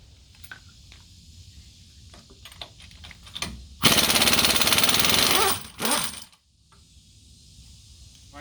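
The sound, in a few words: removing wheel lug nuts on a Duramax truck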